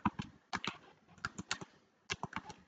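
Computer keyboard typing while entering text into a design program, with quick clusters of light key clicks separated by brief pauses, close and fairly soft, with no talking.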